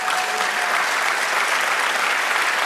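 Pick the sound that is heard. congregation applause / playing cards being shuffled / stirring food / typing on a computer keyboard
congregation applause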